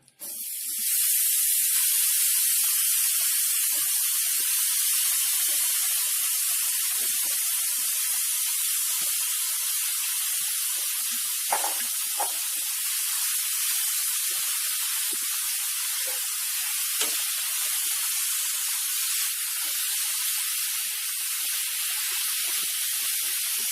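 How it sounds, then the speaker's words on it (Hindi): Half a kilo of grated carrot sizzles in melted ghee over a high flame for gajar halwa: a loud, steady, bright hiss that starts abruptly and holds for over twenty seconds, with occasional faint pops and crackles. "अब हम इसमें डालेंगे अपनी आधा किलो कसी हुई गाजर।"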